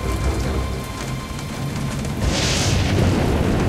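Heavy storm rain pours down in Jurassic Park: The Game, a loud dense hiss with a brighter gust of downpour swelling midway and staying strong to the end.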